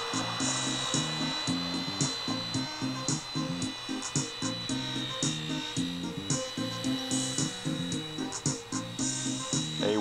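A Blade mSR single-rotor RC helicopter with no tail rotor whines steadily, its motor pitch wavering in a rapid repeating pattern as it flies nearby, loud and continuous with no talk.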